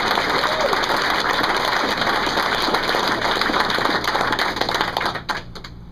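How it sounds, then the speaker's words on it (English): Audience at a Tea Party rally in Lynchburg breaks into sustained applause mixed with cheering, a dense, loud wash of clapping that carries on steadily before tapering off near the end. "Let's give them a round of applause and cheers for standing up for our country."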